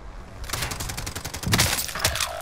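Rapid gunfire in a video game aimed at a helicopter, loud bursts of automatic shots rattling continuously with heavier cracks near the middle and end.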